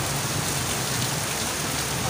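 Heavy rain pours on a Tagaytay road during a thunderstorm, a dense, even hiss of downpour close by and continuous for the whole stretch, with no voices.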